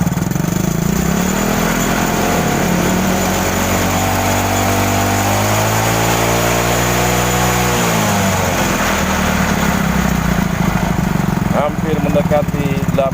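Motorcycle engine revving up from idle and dropping back, loud and continuous, during a test of a motorcycle charging system regulator and stator drawing nearly 8 amperes to ground.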